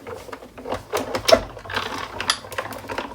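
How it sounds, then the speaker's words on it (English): A Sizzix Big Shot die cut machine cranks a die and panel sandwiched between acrylic plates, a close, uneven series of ratcheting clicks and thumps over about three seconds. "Now I'm going to bring in my die cut machine, and I have a big Sizzix Big Shot"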